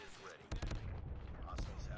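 Gunfire from the mobile shooter COD Mobile crackles in a quick burst of sharp shots followed by a few more, faint overall, with a voice talking over part of it.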